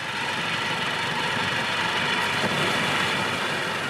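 Farm tractor and power tiller engines run at sea off a West Sea tidal flat, towing fishing boats, with a steady, loud, vibrating engine drone that holds evenly throughout.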